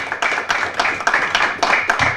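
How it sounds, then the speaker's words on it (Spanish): An audience at a talk claps in steady, dense applause, bursts of hand claps swelling and overlapping throughout, fairly loud with no voices over it. "la verdad que un fuerte aplauso para Fernando."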